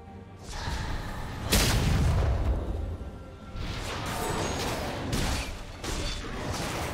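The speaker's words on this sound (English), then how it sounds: "Red team's inhibitor has been destroyed." An inhibitor is destroyed in League of Legends with a sudden heavy boom and crash, followed by rumbling and whooshing game effects that carry on at a steady level.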